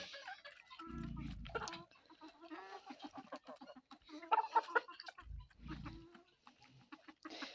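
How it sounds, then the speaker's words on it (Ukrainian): Several chickens cluck and chatter nearby, with short bursts of bantam rooster calls and low rustling underneath; busy, intermittent farmyard bird sounds. "Ну і два півники бентамчики."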